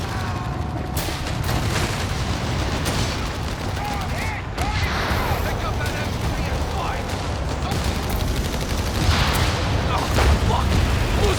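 Machine guns hammer away in a video game battle on the Mignano map with US Airborne forces, a dense, steady rattle of bursts and booms running nonstop for the whole stretch at close range.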